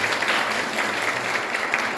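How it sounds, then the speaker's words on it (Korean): A church congregation applauding at an Easter Sunday service, a brief burst of dense, even clapping from many hands filling the room. "박수 한번 보내주시기 바랍니다."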